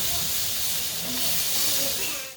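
Peppers cooking in a hot pan give off a loud, dense steady hiss that holds unchanged for a couple of seconds and tails off at the end.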